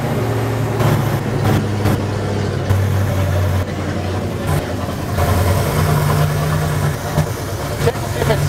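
1972 Ford Galaxie 500 station wagon engine, revived after sitting for 20 years, idling steadily with a low droning hum and small surges, with people talking nearby.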